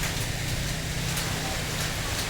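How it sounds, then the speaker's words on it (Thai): Steady rain falling outdoors at a Thai vegetable market stall, a dense, even hiss that stays loud and unbroken throughout, with no voices. "ฝนกำลังลงมาเนี่ยตอนนี้ครับ"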